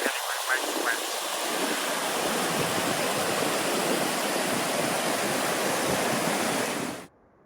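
Mountain stream water rushes loudly and steadily along the Pacific Crest Trail between Stevens Pass and Snoqualmie Pass, a dense broadband roar that continues unbroken for about seven seconds before cutting off abruptly.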